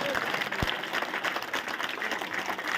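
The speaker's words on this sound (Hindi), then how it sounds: "एक बार मुझे ताली बजा के बता दो।" A crowd at an outdoor political gathering in Mohan Garden claps steadily and densely, a continuous mid-distance wash of applause with faint voices mixed in.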